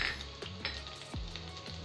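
Chopped garlic fries in oil and butter in a pan with a close, crackling sizzle, broken by a few scraping stirs.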